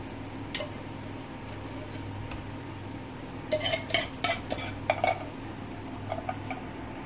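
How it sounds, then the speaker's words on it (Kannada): Spoon and utensil clinks against a container as homemade ice cream mixture is scooped into an airtight box, several light scraping taps clustering in the middle, close and moderate over a quiet kitchen background. "ನೋಡಿ ಈ ರೀತಿ ಡಬ್ಬಕ್ಕೆ ಹಾಕ್ಕೊಂಡಿದ್ದೀನಿ ನಾನು ಏರ್ ಕಂಟೈನರ್ ಡಬ್ಬಕ್ಕೆ"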